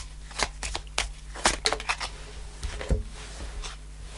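Tarot cards being shuffled by hand during a daily reading, a run of crisp riffling flutters and soft slaps in irregular bursts, close and moderately loud with no talking.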